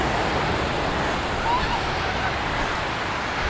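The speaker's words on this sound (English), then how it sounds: "A little bit of surf." Surf washing onto a white-sand beach at Kuaotunu on the Coromandel coast, heard as a steady, broad wash of breaking waves with wind, continuous and fairly loud throughout.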